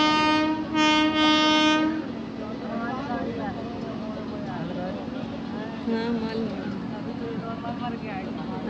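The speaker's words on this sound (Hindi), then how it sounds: "रेलवे क्रॉसिंग पर हमें ट्रेन भी देखने को मिली।" A train passes at a railway crossing with a loud horn blast at the start. The rolling rumble of the wagons continues after it while people talk over the noise.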